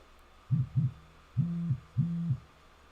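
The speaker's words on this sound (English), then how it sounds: "just notifications going off that people are watching this stuff" A run of short electronic notification chimes sounds during a holiday pop-up shop livestream: two quick blips, then two longer held tones, clear and fairly quiet over a faint background hiss.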